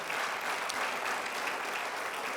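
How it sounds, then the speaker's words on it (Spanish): A church congregation applauds the Lord during a Spanish-language sermon, giving dense, continuous clapping that holds at an even, full level throughout. "Ahora, dale el aplauso al Señor."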